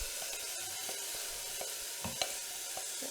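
Spices, potatoes and carrots sizzle as they drop into a hot pot for black bean soup, a steady crackling fry with a few soft clanks and stirring bumps throughout.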